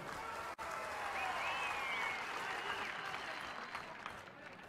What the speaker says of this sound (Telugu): అవును అనుకుంటే గట్టిగా చప్పట్లు కొట్టాలి